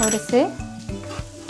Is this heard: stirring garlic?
yes